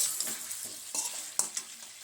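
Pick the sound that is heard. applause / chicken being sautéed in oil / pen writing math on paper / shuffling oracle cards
chicken being sautéed in oil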